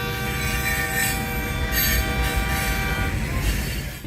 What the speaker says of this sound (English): near vehicle train collision